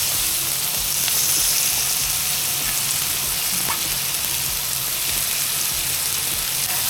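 Chopped onions fry in oil and butter in a pan, making a loud, dense, continuous sizzle with faint stirring scrapes throughout and no voices.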